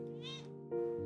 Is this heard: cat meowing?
yes